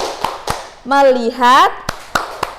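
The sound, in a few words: rhythmic hand clapping, a 'focus clap' classroom routine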